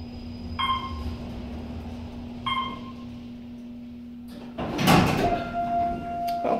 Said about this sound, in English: Not as noisy as the last elevator's door, but still pretty noisy.